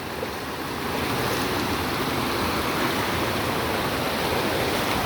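A waterfall at a dam roars as a broad, constant rush of falling water, loud and close, steady from start to finish with no voices.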